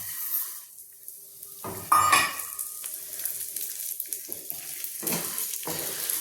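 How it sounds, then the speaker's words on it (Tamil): Urad dal roasting dry in a pan for sundakkai podi, with intermittent scraping and rustling as the lentils are stirred, plus a brief louder clatter. A faint steady hiss underneath. "உளுத்தம்பருப்பை நல்லா சிவக்க வறுத்துக்கணும்."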